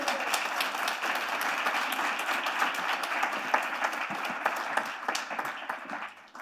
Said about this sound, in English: So how about applause for all those people's effort?